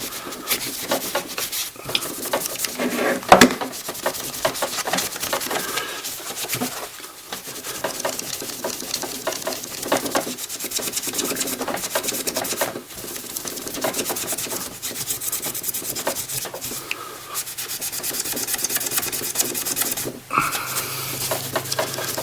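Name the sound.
rubbing paint off a gun with a magic eraser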